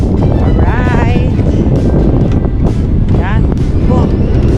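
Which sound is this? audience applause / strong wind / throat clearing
strong wind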